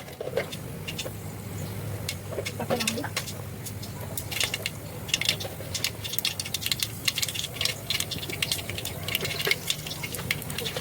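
Faint irregular crackling and popping of mustard and cumin seeds spluttering in hot oil, scattered quick ticks over a low background hum.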